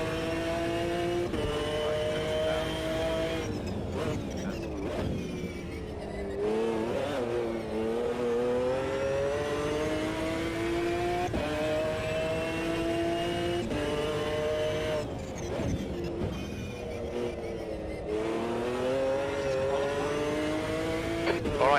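Simulated McLaren F1 GTR race car engine at Bathurst in a racing video game, a loud continuous roar rising and falling with repeated revs and downshifts as it brakes for corners, with occasional talk over it.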